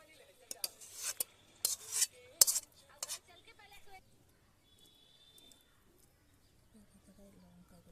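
Cooked banana flower curry is scraped out of a pan in a home kitchen, with several short, close metallic scrapes and clinks of a utensil against the pan, followed by quieter handling.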